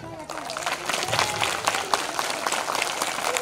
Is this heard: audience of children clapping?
yes